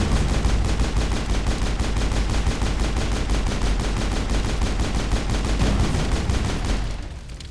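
Rapid automatic gunfire from the video game Mass Effect, a loud, dense stream of shots hammering continuously for about seven seconds before cutting off abruptly, with no voices over it.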